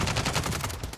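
Rapid automatic gunfire in a Call of Duty match, a quick string of sharp shots at moderate volume, with faint background noise and no clear talk.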